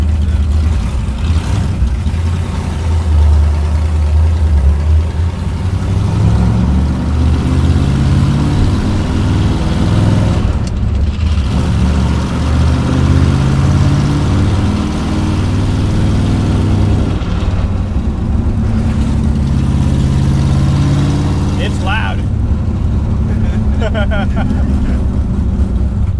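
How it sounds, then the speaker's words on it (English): A 1962 Dodge Dart with a 413 Max Wedge V8 rumbles loudly and steadily from inside the cabin, its deep engine drone filling the whole stretch while people talk over it. "The loudest car I've been in."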